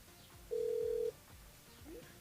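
A single telephone ring tone sounds for about half a second during a live radio call-in show, clear and steady against a quiet studio background.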